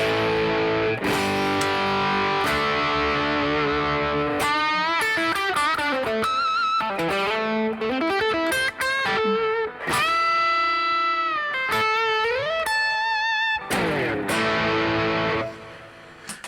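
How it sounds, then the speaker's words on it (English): Distorted rock tone from an electric guitar, played as a continuous bluesy passage of sustained notes, bends and quick runs, loud and close throughout with no talking. "Very much a rock guitar kind of tone, right?"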